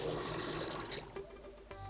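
Hydrobeamer water spray from Ratchet and Clank, a broad hissing gush that runs steadily, drops off partway and then surges again near the end, with no talk.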